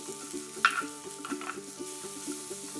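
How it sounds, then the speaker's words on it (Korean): Minced garlic and paprika crackle softly in a pan of oil over medium-low heat, a quiet sizzle with a few light stirring clicks and a small clatter early on, a faint repeating tone running throughout. "다진 마늘 넣고 볶아 마늘향이 올라오면 파프리카 넣고 볶아주고"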